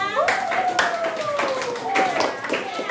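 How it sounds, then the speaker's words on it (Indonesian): A classroom group applauds presentation group 4, with brisk, close hand clapping from several people running through, while a voice speaks over it. "beri tepuk tangan kelompok 4"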